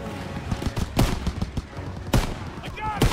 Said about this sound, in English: Shooting some Nazis.